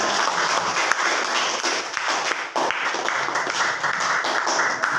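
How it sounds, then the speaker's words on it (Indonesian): A class at a teacher-training practice session at Universitas Pendidikan Ganesha claps together, a close, steady burst of many hands lasting several seconds with little talk. "silakan tepuk tangan"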